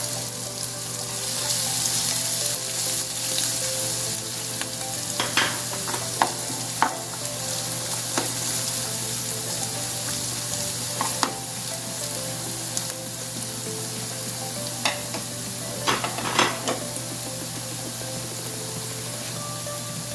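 Crushed ginger, garlic and green chilli fry in a pan with a low, steady sizzle, broken by occasional scrapes and clinks of stirring.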